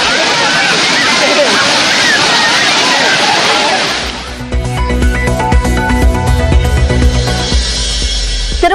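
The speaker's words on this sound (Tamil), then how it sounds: "குற்றால பிரதான அருவியில் சீராக விழும் நீர்" Water plunging at Courtallam main waterfall makes a loud, dense, hissing roar for about four seconds, then cuts abruptly to music.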